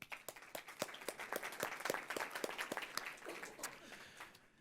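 A modest round of applause at a club forum, clapping swelling then tapering off, sounding fairly distant and faint in a large room.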